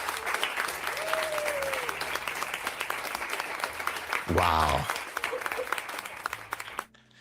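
A canned applause effect plays over a trading livestream, a bed of clapping and crowd noise under a man's spoken exclamations, then cutting off abruptly near the end.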